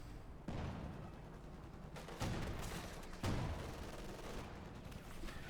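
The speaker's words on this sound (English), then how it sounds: "T-34 going straight for the grenadiers, opening up on them" In Company of Heroes 2, a T-34 tank opens fire on grenadiers: three heavy, sharp cannon shots punch through a steady din of battle noise, each followed by a rumbling tail.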